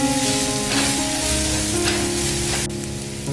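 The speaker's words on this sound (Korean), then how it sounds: "마늘이 어느 정도 노릇해지면 양파를 넣고 함께 볶아주세요" Garlic and onion stir-frying in hot cooking oil in a pan give a steady, close, loud sizzle with faint scraping, continuous throughout without any talking.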